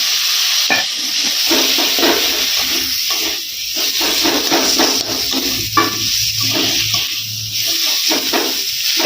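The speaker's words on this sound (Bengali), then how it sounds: "এবারে দিয়ে দিব টমেটো কুচি।" Chopped tomato frying with ground coriander and cumin in a pan gives a loud, steady sizzle and hiss. Occasional stirring scrapes run through it, and no voices are heard.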